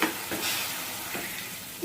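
Bottle gourd chutney sizzles and hisses steadily in a hot tempering pan, a close, continuous frying crackle with faint stirring scrapes and no talk.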